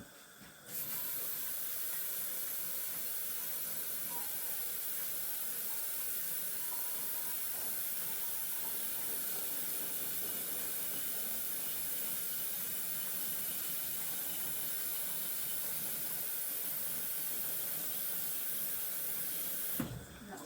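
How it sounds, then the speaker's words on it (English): An electric kettle heats water with a steady, close broadband hiss and rumble that holds evenly for nearly twenty seconds, switching on and off sharply at either end; no voices. "fill the kettle up and get that heating up for my next lot."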